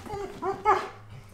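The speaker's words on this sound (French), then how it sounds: "Vous entendez ces petits aboiements stridents, ça? C'est l'excitation." An excited young Australian Shepherd gives a few short, shrill, whiny yaps in quick succession nearby, each a brief high-pitched burst with small pauses between.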